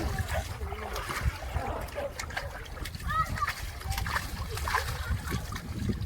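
Water splashes and sloshes continuously nearby, with trickling and dripping, while bathing a Turkmen Alabai dog as people talk over it.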